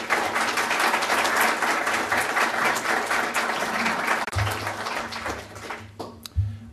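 An audience applauds steadily to welcome speaker Frank R. Baker before a talk on U.S.–UK relations, dense even clapping from a full room that carries on for several seconds and then thins out toward the end.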